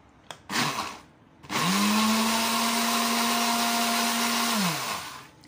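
A kitchen blender whirs loudly and steadily for about three seconds, blending homemade cheese spread ingredients, after a couple of short bumps at the start, then spins down.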